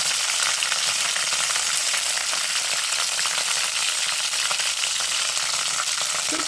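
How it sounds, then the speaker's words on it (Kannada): Curry leaves and broken dried chili sizzle in hot oil for a snake gourd palya, an intense, close crackling fry that stays steady and loud throughout, with no voices. "ಇದು ಕಾಯ್ತಿದ್ದಂಗೆ ಕರಿಬೇವು, ಒಂದು ಒಣಮೆಣಸಿನ್ಕಾಯಿ ಮುರಿದು ಹಾಕ್ತೀನಿ."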